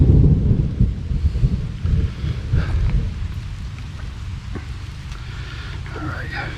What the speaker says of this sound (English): Heard thunder in the distance.